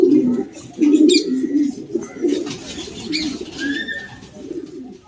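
Racing homer pigeons coo in soft, low repeated calls close by, with faint chirps and light background noise.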